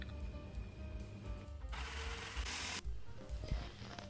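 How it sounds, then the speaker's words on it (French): A blender briefly whirs through buckwheat crumble ingredients with cashews and hazelnuts, a loud grinding burst of about a second set amid close mechanical clatter and rattling. "On va mixer tout ça."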